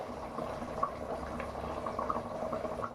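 Nellore-style fish pulusu (tamarind fish curry) simmering in a pot on the stove, a steady close bubbling with occasional small pops, no talking.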